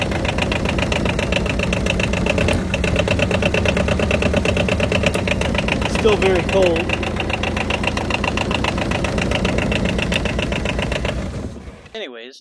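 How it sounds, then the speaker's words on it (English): A cold twin-cylinder 686cc Lombardini diesel engine on a 2008 quad idles loudly and steadily with a rapid knocking beat, a voice speaking briefly over it before it cuts off near the end. "It's a twin-cylinder, 686cc Lombardini diesel engine."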